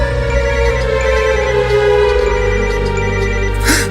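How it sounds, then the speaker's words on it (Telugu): A mobile phone rings with an incoming call in a horror film scene, its ringtone a loud, continuous melodic tone that plays steadily throughout with no voices over it. "నాకు కూడా శివగారి నుండి కాల్ వస్తుందిరా"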